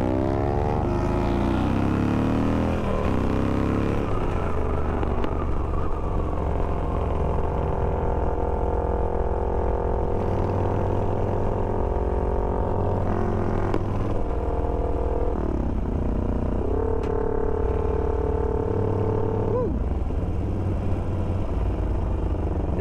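A loud chopper motorcycle idles and revs up close, its engine note rising and falling with irregular pops and clatter over a steady rumble.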